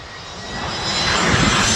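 A fixed-wing passenger plane passes overhead near Taoyuan Airport in Taiwan, a steady broadband engine roar that swells louder toward the end with no voices.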